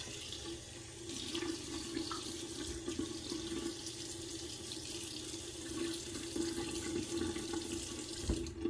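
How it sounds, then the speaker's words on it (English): A bathroom tap runs while water is splashed on a face before a wet shave, a constant soft rush with small splashes and drips throughout. "But I'm gonna wet my face real quick."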